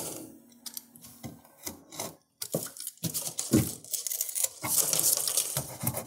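A utility knife cuts and scrapes excess RV seam tape along the trim, giving close, rough rasping and tearing strokes in irregular bursts, with one brief silent pause midway.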